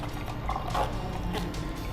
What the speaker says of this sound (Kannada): ಸ್ವಲ್ಪ ನೀರು ಹಾಕಿ